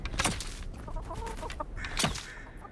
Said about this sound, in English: You can't shoot the chickens.